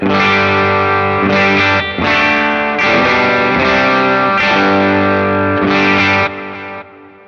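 Electric guitar through an HX Stomp Nano on its clean setting, loud and close, playing sustained chords in several phrases with brief gaps between them, bright and full with a wide chorus-like shimmer.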